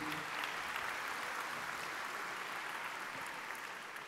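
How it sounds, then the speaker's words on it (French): Crowd applause at a Master Grande Ecole graduation ceremony in 2012, an even, continuous patter of many hands held at a fairly distant, soft level throughout, without voices on top. "Sous les applaudissements de la foule."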